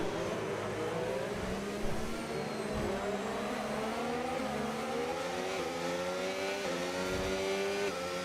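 An F1 car in the F1 25 video game driving toward the pit entry, its high engine note steady and close, with repeated gear shifts making the pitch step up and down across the stretch, no talking.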